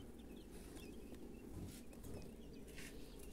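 Soft, high cheeping of day-old quail chicks hatched from an incubator, faint and continuous in a quiet room with low background hum.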